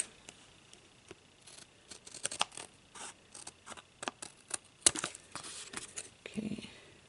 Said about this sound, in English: So I'm just gonna lay my scissors against the cardboard and cut.